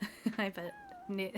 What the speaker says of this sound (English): I think it's a cat in the game.